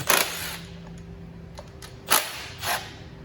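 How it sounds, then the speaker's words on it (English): A metal socket tool dropped onto the floor while working on a 2009 Honda CR-V, a sharp clatter at the start followed by two more distinct metallic knocks as it bounces and settles, close by with no talk. "Don't mind me as I throw my socket on the floor."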